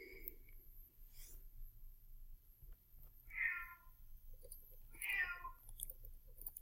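A cat meows twice in an indoor room, two short separate calls with a pause between them, heard alone over a low steady background hum.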